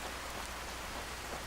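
Steady rain falling in Skyrim's game world, a dense, even hiss of drops spread across the whole range, faint and unbroken with no thunder or voices.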